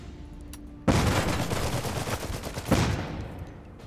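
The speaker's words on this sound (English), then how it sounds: "I'm gonna chuck that grenade." A grenade blast and a burst of gunfire from an Iron Harvest skirmish battle in the video game hit suddenly and loudly after a quiet moment, then a second surge of firing follows before the noise fades.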